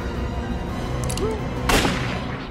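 A single sharp pistol shot from a film bursts out near the end, a loud close crack layered over rumbling ambient background and faint tonal effects.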